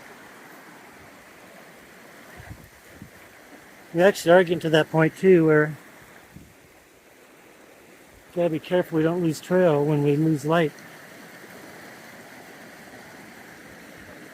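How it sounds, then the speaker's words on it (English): The Reese River flows in a steady, broadband rush throughout, with two people talking over it in the middle stretches. "Made it back down here to the Reese River."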